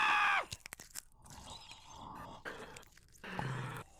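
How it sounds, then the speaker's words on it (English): Fingers being crunched and ripped apart as a creature devours a man: wet crunching and chewing bursts with growling tones, broken by short gaps. "starts to devour him, starting with his fingers, crunching and ripping them off."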